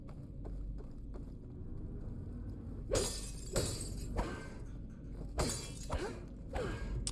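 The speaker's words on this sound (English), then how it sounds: "I can hear glass breaking, but nothing's actually breaking" Glass breaking in Horizon Forbidden West, a series of bright, crashing shatters arriving in irregular bursts about every second or so, each followed by tinkling debris over a low rumbling background.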